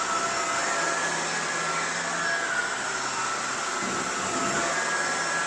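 A Shark vacuum cleaner, a Rotator or Navigator Powered Lift-Away upright, running continuously as it sucks up dirt, dust and sand spread on a floor, producing a loud, steady, close-up motor whine and airflow roar with no talking.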